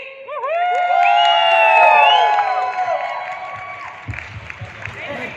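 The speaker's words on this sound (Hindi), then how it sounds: "दोस्तों एक बार जो हूटिंग हमने इनके एंट्री से पहले की थी, फिर से हो जाए" A crowd hoots and cheers at the unveiling of a TV show set, with loud sustained whooping and high shouts rising together, then thinning into scattered claps and chatter.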